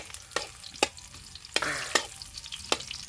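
Sliced onions sizzle in a pan over a wood fire fed with coconut fronds, a steady crackling fry broken by several sharp scraping stirs at irregular intervals, close and fairly loud, with no talking.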